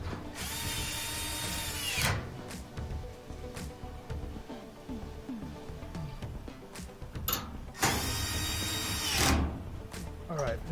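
Two loud, close bursts of a power drill whirring as screws are driven back into the cabinet of a GE washing machine, with clicks, handling noises and talk between them.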